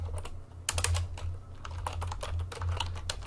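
Rapid keystrokes on a computer keyboard as a short paragraph is typed for web design, steady irregular clicking with brief pauses, close and clear with no talking.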